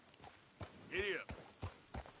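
Horse hooves clip-clopping in Red Dead Redemption 2: a handful of evenly spaced, fairly close hoof strikes, with a brief tonal call sounding in the middle.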